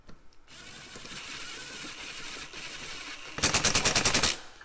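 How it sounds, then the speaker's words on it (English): A power drill whines steadily for a few seconds drilling a 1/4-20 hole in soft aluminum, then shifts into a loud, rapid hammering burst like an impact driver before stopping. "I'm going to be drilling a 1/4 20 hole, so let's give it a shot here."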